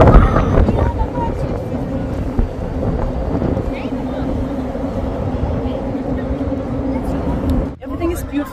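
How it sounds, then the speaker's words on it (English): Strong wind roars and buffets the microphone in a steady, rumbling rush that barely lets up, outdoors at Cristo Rei in Almada, Portugal. "it's very windy today"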